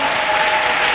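A congregation claps for Jesus at a national Bible camp, giving a brief, dense burst of applause mixed with a sustained tone and crowd noise throughout.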